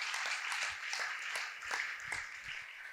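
Congregation at a Sunday church service applauding in praise of God, a steady moderate wash of clapping from many hands filling the room, with a faint voice underneath.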